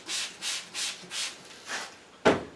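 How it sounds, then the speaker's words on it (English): Star San sanitizer sprayed from a spray bottle: five soft, evenly spaced hissing bursts, followed by a sharper, louder final spritz, close and alone. "I just got some start sanding in a spray bottle."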